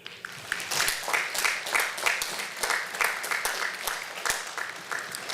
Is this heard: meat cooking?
no